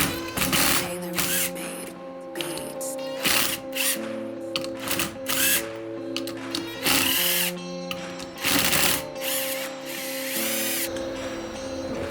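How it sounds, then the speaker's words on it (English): A power tool removes the clutch pressure plate bolts on a 2020 Honda CR125 two-stroke, producing repeated whirring and rattling bursts over a steady mechanical hum, close by, with clinks of metal parts between bursts. "now we can go ahead and remove the bolts and the springs for the pressure plate."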